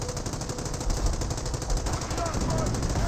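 .30 cal machine gun firing in Company of Heroes, a steady fast chatter of shots running continuously under a dense battle backdrop, moderately quiet, with a voice talking over it.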